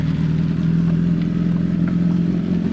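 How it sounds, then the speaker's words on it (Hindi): A superbike's engine drones steadily and loudly at close range as it pulls away, a continuous low hum with faint clatter and no talking. "वो भाई मेरा बाइक लेकर भाग रहा है"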